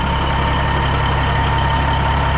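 A Peterbilt diesel truck engine running after a cold start, a loud steady low idle rumble with a constant throb and no pauses, close by.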